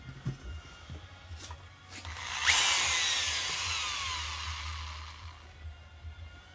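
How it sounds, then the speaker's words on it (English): A power drill whirs up and bores into an RC fishing rod, a loud, high whine that rises sharply and then holds steady for a few seconds before fading back to a low background hum. "And it would greatly help if I plugged in my drill to do this."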